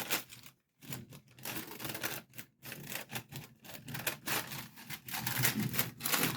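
Scissors snipping around a heart shape cut into tissue paper, a close run of crisp cuts and crinkling paper with short pauses, alone and fairly quiet.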